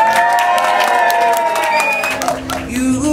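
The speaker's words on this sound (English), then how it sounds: "Someone give her a round of applause." Wedding guests at a hotel reception clap and cheer loudly, with whoops and crowd voices over a sustained wash of applause.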